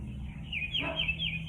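Bird calls rise in a short, fairly faint burst over steady low background rumble in the morning outdoors, with no talking.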